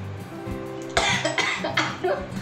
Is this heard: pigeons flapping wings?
no